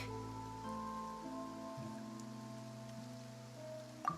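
Steady rain falls in the Genshin Impact video game, an even hiss that lasts throughout under sustained musical tones, with a brief faint sound near the end and no talking.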